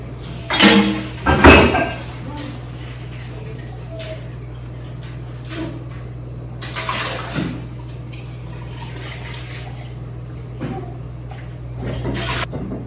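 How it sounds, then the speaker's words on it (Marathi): A mixer jar rinsed with hot water at a sink: two loud bursts of splashing and pouring near the start, then quieter intermittent sloshing and trickling with occasional clatter. "इथे गरम पाणी टाकून ठेवलं, मिक्सरचं भांड थोडंसं वॉश करून घेते"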